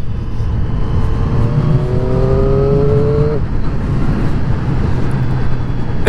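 A 2020 Triumph Street Triple RS motorcycle engine pulls hard and rises in pitch through a gear, then the quick shifter snaps to the next gear, loud and close over steady wind rush while riding.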